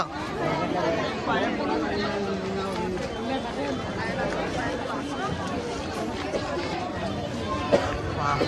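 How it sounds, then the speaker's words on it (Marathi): Dense, continuous crowd chatter at the Datta Jayanti fair in Uran in 2024, with many overlapping voices close by and a single sharp knock near the end. "जाम गर्दी आहे रे"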